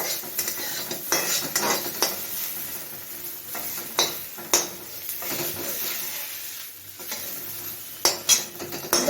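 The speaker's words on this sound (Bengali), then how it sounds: "এই ভাজার মধ্যে আদা বাটাটা দিয়ে দিয়েছি আদা বাটাটা একটু কষে নেবো" Ginger paste is stir-fried in a pan with a quiet sizzle beneath it. Repeated scraping and clinking of a spatula against metal come in irregular bursts close to the listener.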